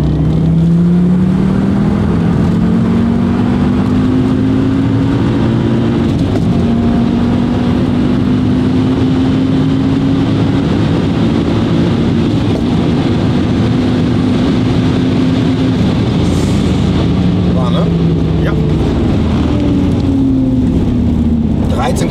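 An Audi RS2 accelerates hard under full throttle, its loud engine note climbing steadily in pitch through long pulls with brief drops at gear changes, filling the cabin with continuous road and engine roar.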